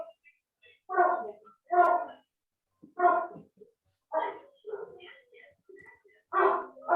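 Dogs bark in the background of an online contracts lesson, sounding as a series of short, separate yaps and barks spaced about a second apart, fairly clear against a quiet backdrop.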